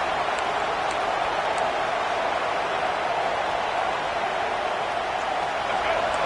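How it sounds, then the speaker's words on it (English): Football stadium crowd at a Penn State versus Michigan game roaring steadily near the goal line, a dense continuous wash of crowd noise heard from a distance. "the crowd really making some noise now, trying to help out this defense to get this stop near the goal line"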